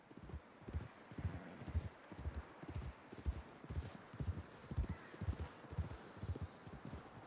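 Steady clip-clop of horse hooves walking at an even rhythm in Red Dead Redemption 2, fairly close, with no voices over it.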